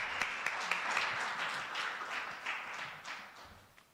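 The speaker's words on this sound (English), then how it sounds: "let us give them a round of applause" Audience applause for conference panelists at an arts school conference, a dense, steady patter of many hands clapping that slowly fades toward the end.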